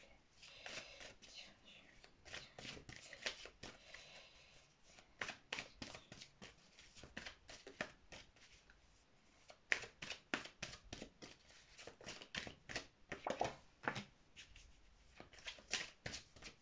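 Tarot cards being shuffled for a card draw, a soft, repeated riffling and flicking in quick bursts across the whole stretch, close and fairly quiet, with faint whispery handling noise between bursts.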